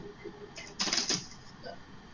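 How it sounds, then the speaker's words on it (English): Playing cards being shuffled by hand, a quick papery riffle burst near the middle, fairly close and quiet, in an otherwise still room. "I'm going to take my handy dandy cards and I'm going to shuffle them up."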